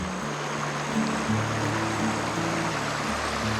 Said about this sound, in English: This is the amount of water coming down the creek.